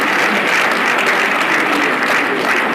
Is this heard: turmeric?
no